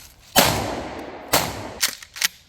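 A shotgun fired in a home-defense setting: a loud, close blast with a long decaying tail, then a second blast about a second later, followed by two quicker, quieter bangs.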